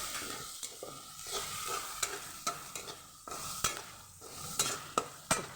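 Fresh coriander is sautéed in a pan on a low gas flame while a spoon stirs it, giving a soft continuous sizzle broken by regular scraping and clinking strokes against the pan, close up and without speech.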